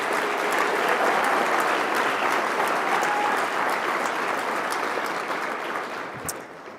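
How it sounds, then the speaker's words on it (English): An awards-ceremony audience gives students at the EcoCAR Mobility Challenge a broad, continuous round of applause, steady and full before gradually tapering at the close. "Please give them a big round of applause for these incredible,"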